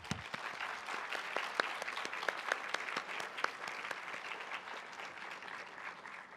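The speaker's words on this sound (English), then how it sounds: "Let's give a round of applause to the parents." Audience applause for the parents at a Grade 5 moving-up ceremony, a steady wash of many hands clapping alone, with no voices, holding even for several seconds.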